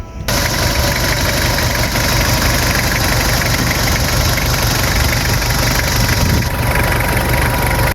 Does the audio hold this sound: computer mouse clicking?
no